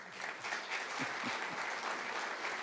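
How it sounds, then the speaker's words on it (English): A room applauds at a university athletics press conference, dense, steady clapping from the gathered audience that holds at an even level throughout, with a few faint low thumps underneath. "That deserves a round of applause."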